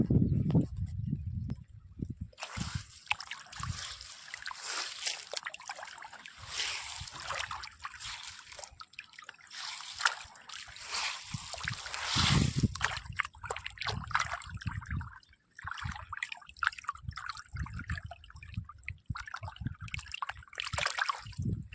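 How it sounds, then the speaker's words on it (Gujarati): Rain falling on an open field of bottle gourd plants, heard as an uneven wash of patter and dripping that swells and thins, mixed with occasional nearby rustling and footstep-like thuds. "વરસાદ ચાલુ છે થોડોક વધારે આવે છે"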